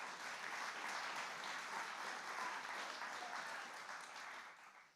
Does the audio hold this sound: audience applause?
yes